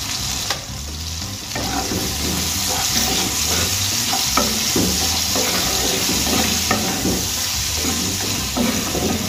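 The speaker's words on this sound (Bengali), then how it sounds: "টমেটোগুলো আমি কিছুক্ষণ ভেজে নেব।" Tomatoes for tomato dal fry in a pan with a constant close sizzle and hiss, while a spatula stirs and scrapes at a regular rhythm, and no one speaks.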